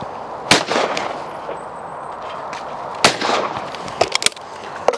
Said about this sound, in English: So that's the Browning 525.